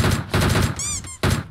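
Bursts of gunfire in PUBG Mobile crackle in loud, rapid clusters separated by short pauses, with a brief squeaky whistling tone between volleys.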